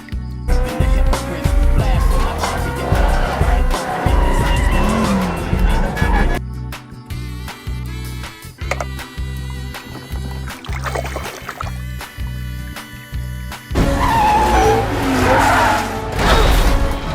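Toy minicars racing in a garden, with loud skidding and squealing tyre effects and engine-like whooshes in bursts, close and busy throughout, pausing briefly midway before another loud rush.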